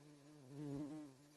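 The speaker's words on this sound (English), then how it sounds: "Bumblebee." Short bumblebee buzzing sound effect, a single close, faint buzz that swells and then fades over about a second and a half.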